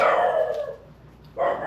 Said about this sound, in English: That's our young pup making some noise.